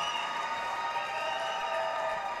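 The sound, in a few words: crowd cheering as Apple Valley hockey team takes the ice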